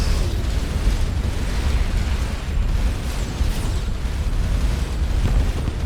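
Missile explosions during a space battle in Starcom: Unknown Space merge into a steady, loud, crackling rumble of blasts and bursts that keeps going throughout.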